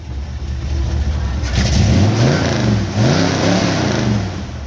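A car at a strange and unusual car show revs its engine loudly nearby, rising in repeated surges over a rumbling idle, with no talk.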